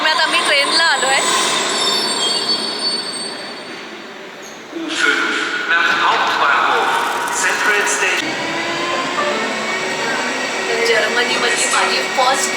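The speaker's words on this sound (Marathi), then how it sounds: "जर्मनीमधली माझी फर्स्ट ट्रेन प्रवास हा." A train ride in Berlin, Germany, with a loud continuous rumble of the railcar, wheel squeal and rattling, and a brief drop in level around the midpoint before the running noise resumes under intermittent talk.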